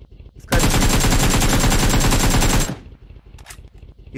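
Sustained burst of automatic gunfire in the battle royale game BGMI, a loud dense rapid stream of shots lasting about two seconds, then cutting off to quieter background game noise.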